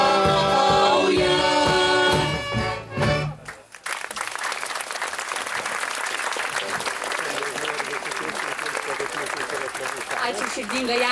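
Audience applause rises at a school's 100th jubilee concert, starting just after music cuts off and going on as steady, dense clapping from a large crowd.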